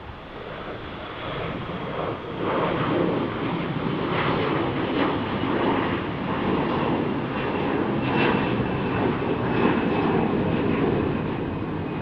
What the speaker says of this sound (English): You see this Delta Airbus A321 depart.